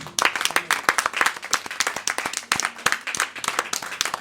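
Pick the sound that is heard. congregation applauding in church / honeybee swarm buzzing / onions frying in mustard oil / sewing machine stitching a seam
congregation applauding in church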